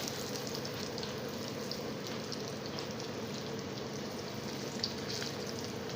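Banana blossom tempura deep frying in hot oil, a steady dense sizzle and crackle with no voices, continuing evenly throughout.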